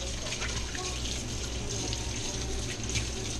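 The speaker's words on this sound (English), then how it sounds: "Just gonna rinse my hands off one more time." Steady running water from a kitchen tap as hands are rinsed, a continuous broadband wash at close range with faint room noise behind it.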